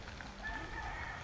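A rooster crows faintly in the distance, one thin drawn-out call over low rumbling background noise, with no talk.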